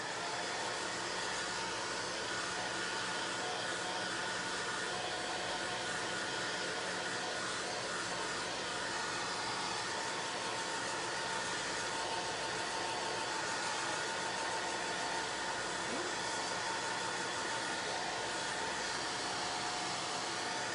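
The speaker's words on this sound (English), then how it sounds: "I'm going to dry the board first" A heat tool blows a constant loud whoosh over a chalk-pasted board, running unbroken and alone throughout.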